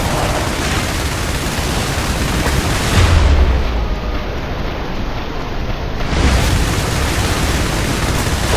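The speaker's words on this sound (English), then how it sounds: "Airstrike approaching to designated coordinates" Airstrike explosions in the video game IS Defense make a loud, dense roar of blast noise with heavier booms landing around the middle and again near the end.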